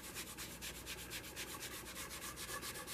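Steady back-and-forth rubbing of dye into a wooden guitar body from a kit, a soft repeated swishing scrape with an even rhythm, close and alone with no voices.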